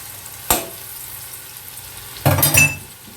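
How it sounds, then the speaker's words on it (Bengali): Onions fry in a pan for prawn pulao as a spoonful of ghee is added, a low, steady sizzle broken by a sharp clink and then a brief, louder burst of spattering, with no voices. "দেখো পেঁয়াজটা ভাজা হয়ে এসছে এবার আমি অ্যাড করে দিচ্ছি এক চামচ ঘি"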